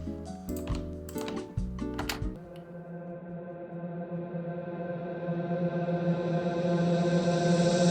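A reversed reverb tail used as an EDM build-up effect swells steadily louder over several seconds after a burst of clicky, choppy sounds.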